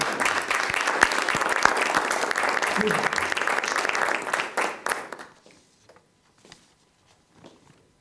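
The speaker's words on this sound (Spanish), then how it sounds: "le damos un fuerte aplauso" An audience gives a speaker at a conference on Spanish aphorism a round of applause, dense clapping that holds for about five seconds, then fades out to a few scattered claps and quiet room noise.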